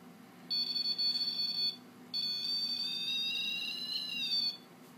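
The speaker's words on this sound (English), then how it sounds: "if anything comes in close proximity trying to touch this piece of antenna, it will go on like this" A Rem Pod paranormal detector sounds its alarm when something nears its telescopic antenna: two bursts of high, warbling electronic beeping, one short and one longer, loud and close over a quiet room.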